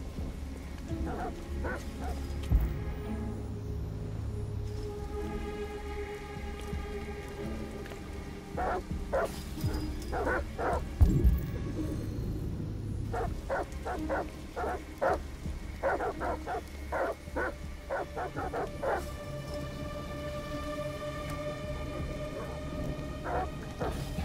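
Dogs bark in the video game Detroit: Become Human, sharp repeated barks in clusters over steady rain and ambient noise, moderately near, with other game sounds in between.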